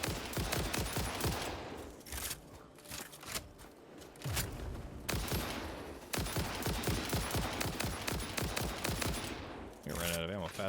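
Rapid rifle fire in the factory-building game Satisfactory, loud, dense bursts of shots running almost continuously with brief gaps, a voice briefly heard near the end.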